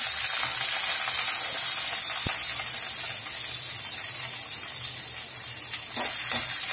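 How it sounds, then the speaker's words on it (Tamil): Onion sizzles in hot oil with mustard seeds and urad dal, giving a steady, dense hiss close up. A single sharp tap and a few faint clinks of a utensil can be heard near the end. "இப்ப எண்ணெய் ஊத்தியாச்சு, கடுகு உளுந்தம் பருப்பு போட்டுருவோம். நல்லா பொரியட்டும். இப்ப நம்ம வெங்காயத்தை சேர்த்துறோம்."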